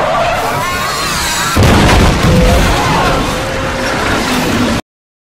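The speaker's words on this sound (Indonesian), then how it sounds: "Kini bus kehilangan kendali sampai akhirnya terguling." A bus in a film loses control and overturns, heard as a sudden heavy crash and roaring impact that swells into sustained chaotic rumble and debris with crowd-like noise, loud and close before cutting off.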